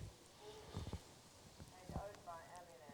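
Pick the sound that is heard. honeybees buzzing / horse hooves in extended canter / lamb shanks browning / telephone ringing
horse hooves in extended canter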